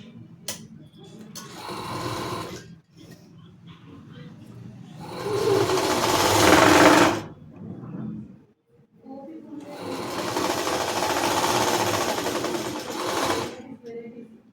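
A sewing machine stitches the front part of a blouse in a tailoring class, running in two long steady bursts with brief stops between them, close and fairly loud.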